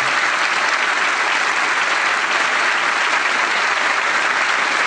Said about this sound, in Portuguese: Vamos aplaudir esse Deus com toda a força do nosso coração